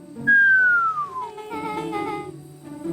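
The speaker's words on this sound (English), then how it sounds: "Let out a low whistle." A low whistle in the video game Beacon Pines: a single clear tone sliding downward in pitch for about a second, followed by soft game background sounds.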